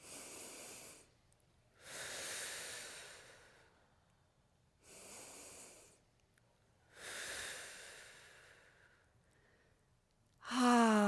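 Slow, deep breaths in an energy-balancing routine, four long airy inhales and exhales separated by pauses, close and fairly quiet, ending with a brief louder voiced sound.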